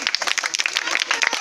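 A crowd claps hands in quick, dense applause at a magic show, with voices calling out over it.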